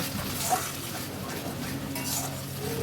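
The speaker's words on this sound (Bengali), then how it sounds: "অল্প করে জল দিয়ে খুব ভালোভাবে মশলাটা কষিয়ে নেব" A spice paste of the kind used for a fish kalia is stirred and fried in a pan with a little water, giving a steady soft scraping and low sizzle with faint clinks of a utensil against the pan.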